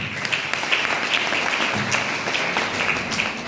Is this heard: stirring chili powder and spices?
no